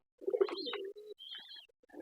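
A Homer pigeon coos softly a few times in a short, gentle burst, close by and quiet, with no other sounds.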